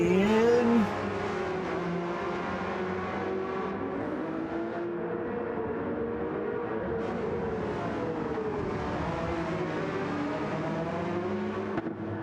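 GT race cars roar around the Brands Hatch circuit, a continuous layered engine drone with shifting pitch as several cars pass at a distance, steady and moderately loud throughout.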